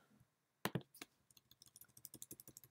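Someone types on a computer keyboard: after a short pause, a couple of firmer key hits lead into a quick, even run of soft close clicks, quiet and with no voices.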